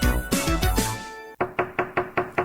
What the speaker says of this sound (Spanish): Al toque de puerta,